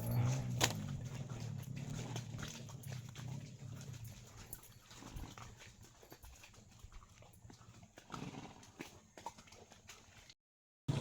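Faint horse hooves clip-clop irregularly over rough uphill ground amid outdoor rustling, with a few sharper knocks.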